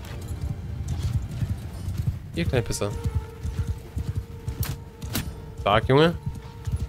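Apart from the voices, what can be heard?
horse galloping and neighing in Mount and Blade 2 Bannerlord video game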